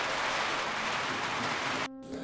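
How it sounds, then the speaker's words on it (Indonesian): Heavy rain driven by strong wind pours in a dense, loud, steady hiss, cutting off abruptly near the end before a fainter wash returns. "hujan deras disertai angin kencang membasahi bumi"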